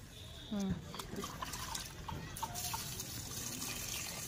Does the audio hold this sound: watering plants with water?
yes